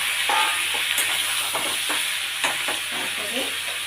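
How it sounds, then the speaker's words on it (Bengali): Chopped ginger and tomato frying in a pan, a steady sizzle with scraping stirring strokes and a few sharper clatters, close and fairly loud, no voices. "খুব পুড়িয়ে ভাজার দরকার নেই, অল্প ভেজে আমি এই টমেটোটা দিয়ে দিলাম"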